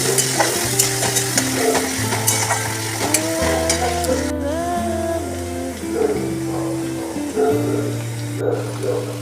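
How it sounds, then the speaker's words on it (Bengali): Chopped onion frying lightly in oil in a wok, a steady crackling sizzle with scattered pops heard under continuous background music. "এরপর ওই কড়াইতে তেলের মধ্যেই আমি কুচনো পেঁয়াজ দিয়ে দিয়েছিলাম এবং পেঁয়াজটাকে ভেজে নিয়েছিলাম হালকা করে।"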